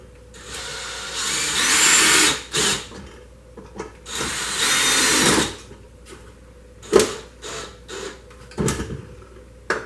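Small screw being driven into a homemade instrument, heard close as a few bursts of rough grinding and ratcheting scrapes separated by pauses and light knocks, with no voice.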